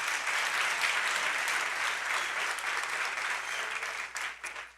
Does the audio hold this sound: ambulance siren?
no